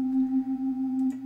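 A steady sustained Wurlitzer theatre organ tibia stop with tremulant, giving a gentle wavering pulse, held alone at a moderate level.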